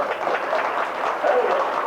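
Applause from a church chancel choir social after a meal, a steady wash of clapping from a gathered crowd, fairly close and loud throughout the short stretch.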